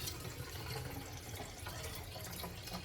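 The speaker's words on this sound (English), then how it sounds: "Then you're going to fill it entire bottle with water." Water runs from a tap into a Memo water bottle, a faint, steady gurgling rush that holds at a low level without a break.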